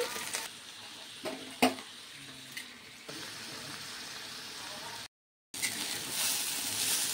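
Bitter gourd and onions frying in a pan for a curry: a soft, steady sizzle with a few scraping stir knocks, a brief silent gap, then the hiss returns slightly louder.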